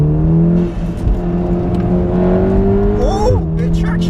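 A remapped Volkswagen Golf R downshifts and accelerates off a roundabout, its engine droning steadily from inside the cabin, then revving with a rising whine near the end, under a voice talking.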